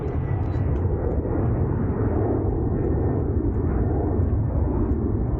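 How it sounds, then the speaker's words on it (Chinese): A nearby airplane takes off from an airport and fills the air with a loud, continuous low roar and rumble that holds steady throughout, heard outdoors from a running route with no one talking. "这个飞机起飞了， 有点吵。"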